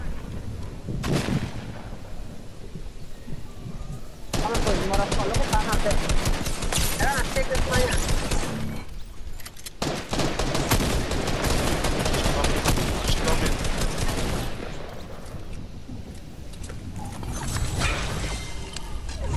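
Fortnite gunfire in a multiplayer match, dense rapid bursts of shots and mechanical clatter running loud and almost continuously, broken by a couple of brief lulls, with players' voices talking over it.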